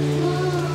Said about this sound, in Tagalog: umuulan na oh. Lakas ng ulan